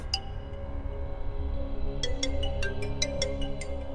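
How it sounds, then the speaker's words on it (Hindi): A phone ringtone chimes in a quick repeating pattern of bright tones, starting partway through over a steady low background hum. "प्रीता, किसका फोन है?"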